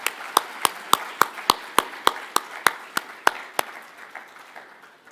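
Audience at an IADC SCAC technology meet claps in a steady, evenly spaced rhythm, about three sharp claps per second, loud and close at first and gradually tapering off.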